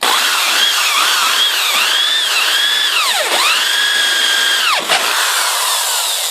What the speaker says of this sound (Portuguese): A broca tá um bocado cega, mas é o que tá tendo pra hoje aqui.